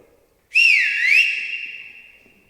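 A single clear whistle, rising and dipping in pitch, then holding a steady tone that fades out over about two seconds.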